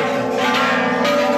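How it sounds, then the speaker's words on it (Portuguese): A large temple bell in Thailand is struck and rings out loud and close, its sustained metallic hum swelling again with a second strike. "vamos bater o sino, meu povo"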